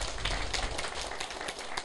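An audience claps at a political lecture hall gathering, a brief, steady, dense burst of hand applause filling the room throughout.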